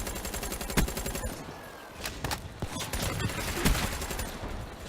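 Rapid gunfire from a Black Ops 3 match crackles in quick repeated bursts, with snappy close shots over a busy game background.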